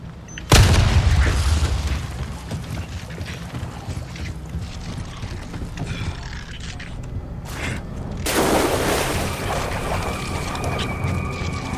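A loud bomb blast in Resident Evil 4 Remake erupts sharply near the start and rumbles away, followed by quieter mechanical sounds and a second broad burst of noise that lingers to the end.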